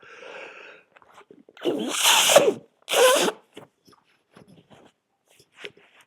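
Two sharp sneezes in quick succession, close and fairly loud, with soft rustling and breathy noises before and after.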